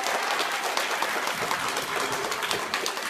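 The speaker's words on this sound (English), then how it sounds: "Can we give her a round of applause?" Applause for a schoolchild from a classroom audience of children, a brisk, dense patter of many small hands clapping steadily for a few seconds.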